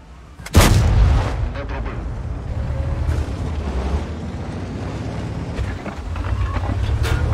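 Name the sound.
P.43 ter tank cannon firing, from a video game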